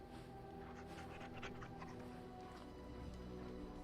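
A dog in the video game Dragon Age: Origins pants steadily and rapidly, close and clear over a constant background hum of game ambience.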